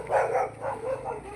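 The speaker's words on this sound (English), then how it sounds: "That's a big dog." A big dog barking outdoors, three or four deep, loud woofs in quick succession, close by and with no talk over them.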